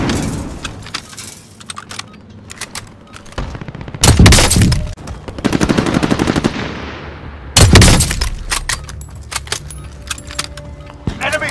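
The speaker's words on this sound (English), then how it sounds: "Stun grenade out." Stun grenade detonating in the Warzone video game: loud broadband bursts around the four- and eight-second marks, set among game gunfire, rattling and clattering effects, with no talk.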